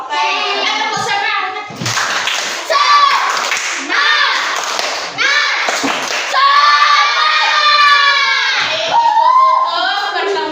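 A fourth-grade class of children claps and chants in unison, bursts of rhythmic hand claps alternating with loud, bright group vocal chanting close by.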